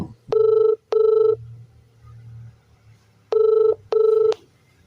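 An old-style telephone bell rings in two double bursts, loud and close, separated by a pause with faint background murmur.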